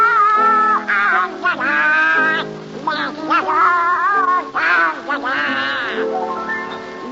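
On a vintage radio theater broadcast, a performer sings in Donald Duck's quacking voice, imitating a duck. The warbling, nasal quacks are loud and continuous, with short pauses between phrases, for about seven seconds.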